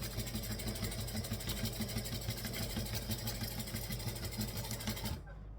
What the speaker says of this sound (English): Just means I have to sew slower.